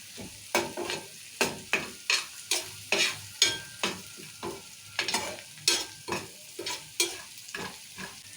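Spoon stirring ground coriander, garam masala, turmeric and salt frying in a pan for a Telugu-style fry dish, a steady rhythm of about fourteen scraping strokes over a soft, continuous sizzle, close and with no talking.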